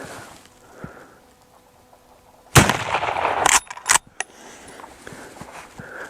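A Colt Lightning rifle in .50 Express fires at steel targets outdoors, with a loud blast of sustained noise and then a second sharp burst, set against quiet surroundings.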